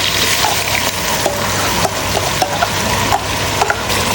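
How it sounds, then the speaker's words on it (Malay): Red chili paste stir-fried in hot oil for spicy Portuguese-style chicken, a loud continuous sizzle with periodic scrapes of the spatula through the pan. "Okey, kita tumis sampai dia masak."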